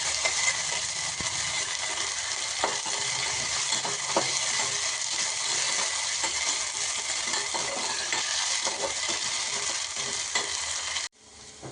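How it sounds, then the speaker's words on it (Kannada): Boiled potatoes frying in a pan, a loud continuous sizzle with occasional scraping clicks of stirring, cutting off abruptly near the end. "ಒಂದು ಸ್ವಲ್ಪ ಹುರಿಬೇಕು ಬಟಾಟೆನ"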